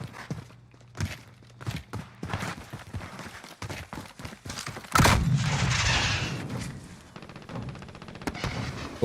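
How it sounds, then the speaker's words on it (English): Gunfire crackles in a Warzone match, with scattered sharp shots and short bursts at a distance, then a louder close cluster of fire followed by rapid, uneven popping. "Yeah, I heard gunshots."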